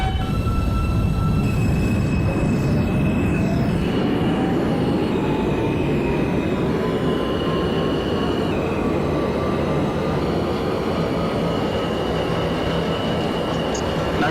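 An R160 New York subway train on the R local line in the OpenBVE simulator, a loud continuous rumble of running wheels and motors with a rising whine and faint squeal, steady throughout.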